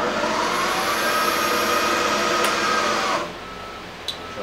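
A Willis Machinery WM3VS knee mill spindle runs with a steady, loud motor whine and hum, then winds down sharply partway through as it is switched off, leaving a quieter room with a brief click.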